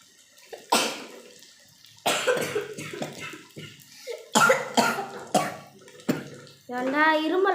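Several harsh, close coughing bursts come from a person while crispy food is being cooked, spread irregularly over several seconds with quiet gaps between them, ending with a short vocal sound.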